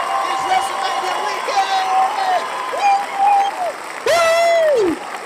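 Clapping and cheering from a live-show audience on WrestleMania weekend: steady applause throughout, with several rising and falling whoops over it, the loudest cheer near the end.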